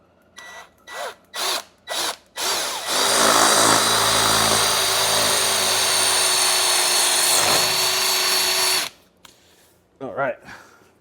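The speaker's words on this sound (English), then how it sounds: "so let's drill these holes" A power drill bores holes into hard concrete for a WhisperShake 2.5 setup, a loud continuous whine running about six seconds after several short bursts, with brief grunting at the start and end.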